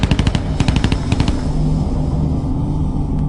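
A loud burst of rapid machine pistol fire rattles off in a few quick strings of shots during the Iranian Embassy siege, then fades into a sustained rumbling roar.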